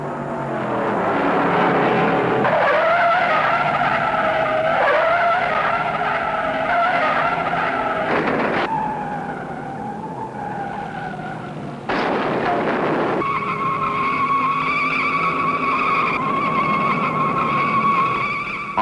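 Race cars weighing about 4,000 pounds skid at around 154 miles an hour during sprint races and practice at a 500-mile race, tyres screeching loudly across the whole stretch over roaring engines, with brief louder bursts as cars pass.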